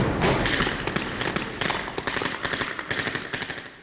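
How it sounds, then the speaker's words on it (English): A rapid series of sharp explosive bangs and pops during a Secret Service training exercise, some in quick bursts, loud and close, with no voices. "These explosions give us the feel, the blast, the heat."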